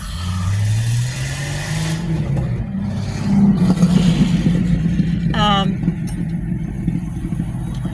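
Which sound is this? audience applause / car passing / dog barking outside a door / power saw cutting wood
car passing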